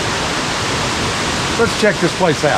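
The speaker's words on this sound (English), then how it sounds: "We made it to Mousetail Falls. Mouse Creek Falls." Mouse Creek Falls, a waterfall in the Smoky Mountains, gives a constant roar of falling water close by, with someone speaking briefly over it near the end.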